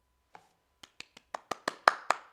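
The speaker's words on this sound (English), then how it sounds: "Do claps come over well on Discord?" A string of hand claps over a Discord voice chat begins with a single faint clap, then speeds into an uneven run of sharp claps that grow louder and more frequent, like several people joining in.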